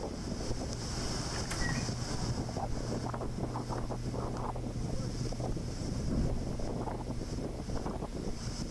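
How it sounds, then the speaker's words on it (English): Steady wind from Hurricane Irma rushes and buffets the microphone, a constant blustery roar with faint water-like wash underneath and a distant bird call. "it is a little windy and a little hard to hold a"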